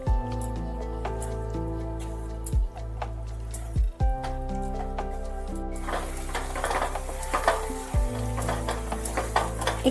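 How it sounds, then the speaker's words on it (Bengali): Papaya frying in a pan while a spoon stirs it, a continuous sizzle over a low mechanical hum with scraping and clanking of the utensil against the pan, close by and without talk. "তো এইভাবে ভালোভাবে একটু নেড়ে নিতে হবে।"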